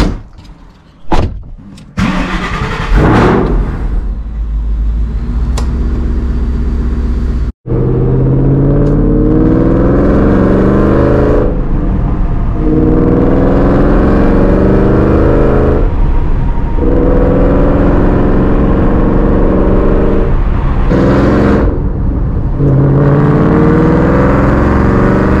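A Shelby GT500 driven from the driver's seat while a possible bent axle or warped part is checked, its engine holding a steady loud rumble with shifting tone after a few sharp knocks at the start.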